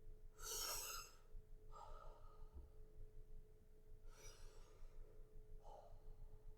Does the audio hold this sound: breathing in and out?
yes